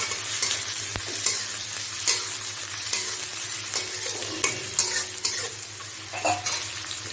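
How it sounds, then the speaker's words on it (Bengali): Onions sizzle in hot oil for a crab curry while a metal spatula scrapes and taps the pan in regular stirring strokes, close and continuous. "পেঁয়াজ দিয়ে আমি এটাকে ভালোভাবে ভেজে নেব"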